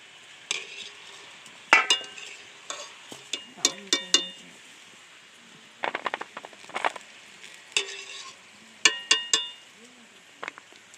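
Fried sesame seed balls (til naru) being lifted out of hot oil, with scattered sharp clinks and scrapes of a utensil against the pan over a faint, soft bubbling.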